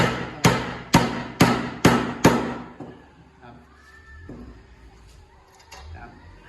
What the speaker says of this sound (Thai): แล้วก็ค่อยตีค้อนลงไป